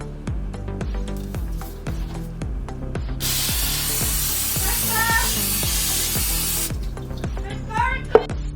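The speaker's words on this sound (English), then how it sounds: "now I'm going to spray my pan with" Pam cooking spray hissing onto a pan in one steady burst of about three and a half seconds, close and moderately loud, set against a repeating rhythmic background and brief speech.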